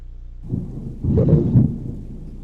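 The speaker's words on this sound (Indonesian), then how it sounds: "Iya, hujan terus." Rain with rumbling thunder in the Roblox horror game Pine Fall, a low roll swelling about halfway through and peaking twice before easing back into steady rainfall, fairly loud with no voices.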